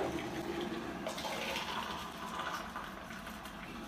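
Boiling water pours into a cup with a steady, splashy rush that runs for a couple of seconds and then tapers off, fairly faint and with no one talking.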